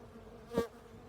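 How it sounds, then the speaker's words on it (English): A single honeybee buzzes past close by at a backyard beehive, a short rising and falling hum lasting about a quarter second over a low steady background. "this one bee looks a little injured, but took off in flight just fine"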